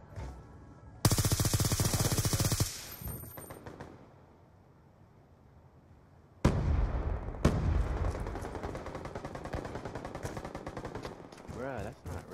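Long automatic machine-gun bursts from a Call of Duty Black Ops 2 match crackle loudly in two sustained stretches separated by a quieter lull, close and relentless, with a voice talking faintly over the game at times.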